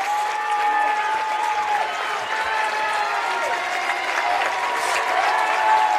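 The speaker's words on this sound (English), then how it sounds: "Owen Prater getting the crowd wound up here." A basketball crowd at a varsity boys high school game cheers and applauds steadily throughout, a dense, continuous wash of clapping and shouting with a few whistles rising above it.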